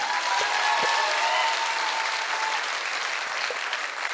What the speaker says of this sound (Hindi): मैं चाहूंगा एक बार उनके सम्मान में जोरदार ताली होनी चाहिए।